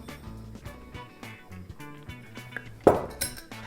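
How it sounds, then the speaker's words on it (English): A bowl is handled in a home kitchen while breadcrumbs go in. Several light knocks and clinks of dishware come first, then one sharper, louder clink near the end. "now I'm gonna take a bowl, and I'm putting a little bit of breadcrumbs in here"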